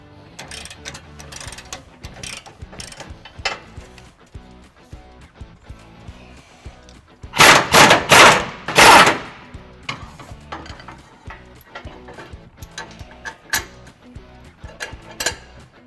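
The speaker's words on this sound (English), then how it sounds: "We used a breaker bar in this case because these bolts were pretty tight" A breaker bar works tight bolts loose on a 2021 Ford F-250 during a trailer hitch install, with scattered metallic clicks and clanks and a loud burst of rattling ratchet clatter midway, close by.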